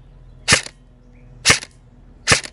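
A Lancer Tactical M4 LT-02 CQBR airsoft rifle fires three single shots of 0.28 g BBs across a chronograph, each a close, crisp crack about a second apart over a faint background hum.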